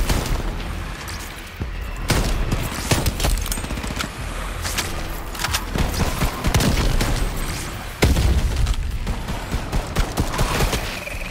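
Shatterline co-op mission gunfire, dense continuous bursts of automatic weapon fire with booming impacts and explosions, loud and sustained throughout.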